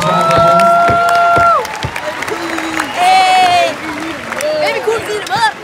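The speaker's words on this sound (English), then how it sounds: "Another round of applause for the mayor and a wonderful job." Applause and cheering for the mayor at a banquet, a crowd clapping with loud shouts and whoops rising over it, voices calling out near and far amid the noisy room.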